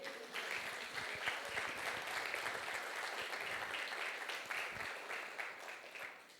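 Sustained applause from a congregation at a Sunday church service, offered in praise to God. Many hands clap in a continuous, fairly soft roar heard from a little distance.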